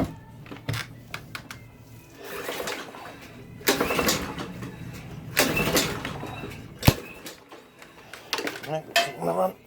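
A neglected old lawnmower engine is pulled over several times and coughs briefly without catching, each attempt a short rough burst with quiet gaps between; someone talks in between.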